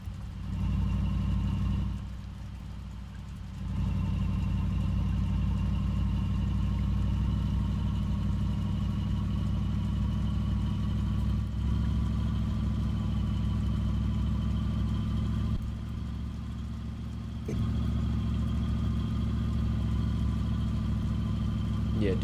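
Chevrolet El Camino driving along in overdrive: a steady, droning engine note that dips twice and then resumes, heard from inside the cab, with people talking over it.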